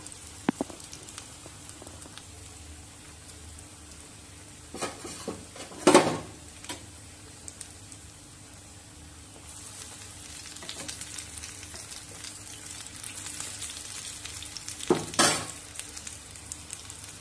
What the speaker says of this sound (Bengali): একটু মাঝারি হাই করে বড়াগুলো ভাজবো